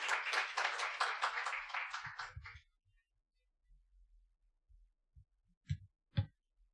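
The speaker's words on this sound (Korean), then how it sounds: "큰 박수 맞으시기 바랍니다" An audience applauds at a Seoul National University AI research institute presentation, a dense burst of many hands clapping for about two and a half seconds before it stops abruptly, followed by near silence with a few soft thumps.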